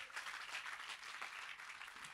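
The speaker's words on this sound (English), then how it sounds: "Don't clap too soon." Applause from an audience at a leadership training summit speech in India, a brief burst of dense clapping at moderate distance.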